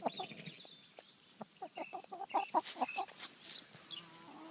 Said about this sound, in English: Oh, there's a chicken. You hear?